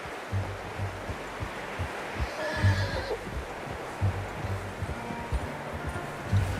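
A horse in the video game Red Dead Redemption 2 on PS5 whinnies once, a short high call rising over a steady outdoor hiss and low rumbling, with scattered soft thumps and no voices.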